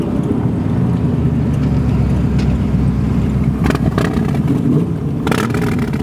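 A 1971 Chevrolet Corvette with a 454 V8 engine driving, a steady loud low rumble throughout with a slight surge near the end, no talk.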